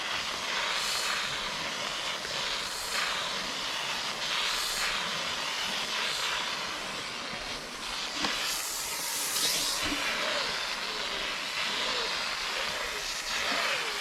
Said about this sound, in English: Just using steam.